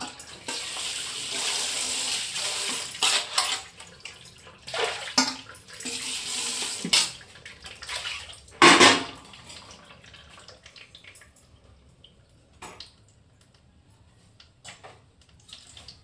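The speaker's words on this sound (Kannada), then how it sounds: "ಫಿಶ್ ಸಾಂಬಾರಿಗೆ ಫಿಶ್ ತೊಳೆಯೋದಿದೆ" Tap water splashes and runs while fish is washed for a village fish curry, in loud bursts for the first several seconds, then tapering to scattered faint splashes and drips.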